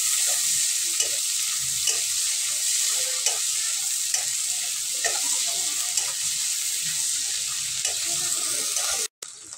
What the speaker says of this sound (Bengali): আমার চিংড়ি মাছগুলো ভাজা হয়ে গেছে